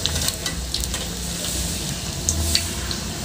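Kerala-style onion vadai (ulli vadai) deep-frying in oil, a close, continuous sizzle with scattered sharp pops and crackles throughout.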